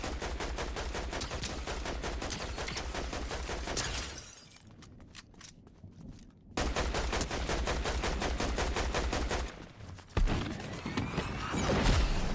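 Rapid automatic gunfire in a Fortnite Zero Build match, loud and close in long continuous bursts, broken by a short lull of scattered single shots, then firing resumes with heavy impacts near the end.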